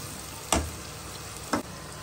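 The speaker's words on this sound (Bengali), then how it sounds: "পেঁয়াজটা ভালোভাবে ভেজে নেব।" Onions frying in a pan for chicken tangri masala, a steady broadband sizzle throughout with two short sharp scrapes or knocks of stirring, close and alone without talk.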